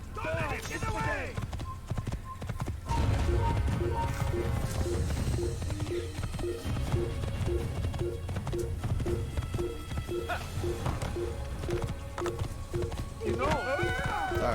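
Rhythmic hoofbeats from a horse galloping in the Assassin's Creed video game, a steady clip-clop running throughout under game music and a voice talking over it.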